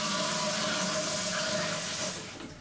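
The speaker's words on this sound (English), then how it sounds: "And then the push handle to flush the toilet." Old push-handle toilet aboard the RMS Queen Mary flushing with a loud rushing gush of water close by, steady at first and then tapering off toward the end.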